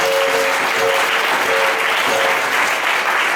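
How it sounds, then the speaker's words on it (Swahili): A congregation at a Sunday church service claps, a loud, continuous wash of many hands that stays steady from start to finish, with faint tonal sounds beneath it. "Hebu pigia Jerusalem makofi."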